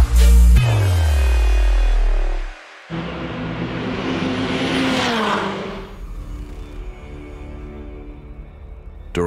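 Porsche GT3 Cup race car on the Nürburgring Nordschleife at night during the 24-hour race, a loud engine roar sweeping past up close, then a high-revving pass that fades into the distance.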